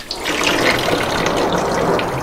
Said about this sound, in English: We're just going to let that drip for a while.